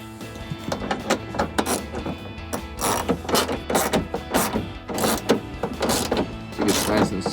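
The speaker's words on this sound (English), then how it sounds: "Go ahead and grab your ratchet." Hand ratchet tightening a headlight bolt on a 2003-2005 RAM 2500 pickup, close repeated clicking bursts in short rhythmic strokes with some voice in the background.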